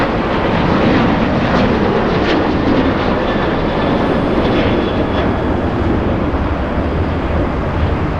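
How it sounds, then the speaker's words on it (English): An airliner at LAX races down the runway on takeoff, its engine roar a loud, steady broadband rush that holds through the whole stretch with no voices over it. "this one racing down the runway"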